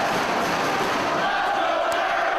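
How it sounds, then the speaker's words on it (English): A wrestling arena crowd roars and cheers in a dense, steady wall of noise during a Ring of Honor match. "And listen to this crowd."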